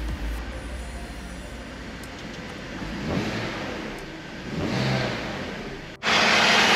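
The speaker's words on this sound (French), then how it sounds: "On va juste procéder à un petit test de démarrage histoire de s'assurer que tout aille bien." A BMW E46 530i, turbocharged with new coils, cranks and starts, its engine settling into a steady idle with a couple of swells of revving, then a sharp louder burst of noise near the end.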